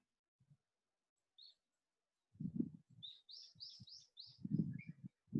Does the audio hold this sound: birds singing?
yes